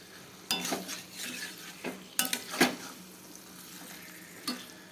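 Chicken pieces sautéing in hot oil for a Bengali-style curry, with a steady sizzle broken by several loud scraping stirs of the spatula against the pan, no voices.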